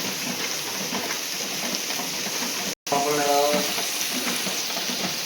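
Schezwan chutney frying in oil for paneer chilli, a continuous close sizzle and bubbling hiss with a brief dropout midway and a faint tonal hum after it.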